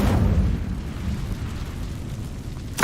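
A fire spell, Incendio, cast in a video game bursts out as a loud whooshing roar that swells and then fades, followed by a sharp crackling pop at the end.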